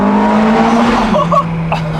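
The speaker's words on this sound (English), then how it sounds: "Oh, just like that natural burble." Ferrari F430 exhaust giving a natural burble, a steady low engine note with crackly pops near the end, close and fairly loud throughout.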